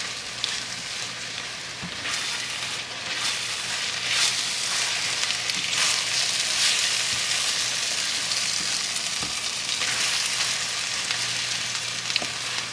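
Pad thai ingredients, including bean sprouts, sizzle in a hot pan with a steady, close frying hiss that swells and fades as they are tossed, punctuated by a few light knocks of stirring.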